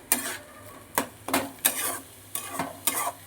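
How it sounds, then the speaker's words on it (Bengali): Egg, pumpkin, onion and garlic stirred together in a frying pan, five sharp spatula scrapes against the pan at a quick uneven rhythm over a faint sizzle, no talk. "ডিমের সাথে কুমড়োর সাথে পেঁয়াজ রসুন সব একসঙ্গে নাড়াচাড়া করতে হবে সমানে নাড়তে হবে"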